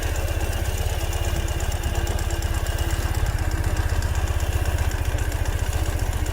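A 2015 Ural Gear Up sidecar motorcycle climbs an incline, its engine thumping steadily at a low, even rhythm, close and moderately loud throughout with no talk.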